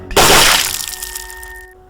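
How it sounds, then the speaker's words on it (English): Two skulls smashed together by Jason Voorhees in a horror audiobook, heard as a single loud, sharp cracking crunch that bursts out and then rings down into a fading, brittle decay, with no talk over it. "Jason Voorhees took the skulls of the couple and smashed both of them together."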